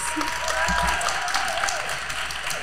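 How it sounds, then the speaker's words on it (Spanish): A studio audience gives a brief round of applause for a guest on a health podcast, steady throughout, with a voice talking over it. "Damos un aplauso con cariño, Alejandra Ponce"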